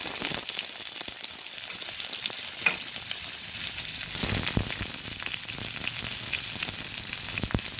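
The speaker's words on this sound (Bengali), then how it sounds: "কালো জিরেটা নেড়ে চেড়ে এবার দিয়ে দিচ্ছি মিডিয়াম সাইজের একটা পেঁয়াজ" A medium onion and black cumin fry in hot oil for a bean-and-poppy-seed dish, giving a steady close sizzle with a few sharp crackles and occasional stirring scrapes throughout.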